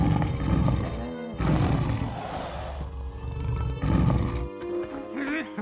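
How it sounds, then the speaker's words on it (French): A cartoon tiger lets out loud, rasping roars in bursts, growling between them, with background music and sound effects layered underneath. "Un tigre."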